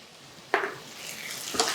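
Sweet potatoes being stirred with jaggery in a hot pan, giving two short scraping, sizzling strokes over a low cooking hiss, with no talking.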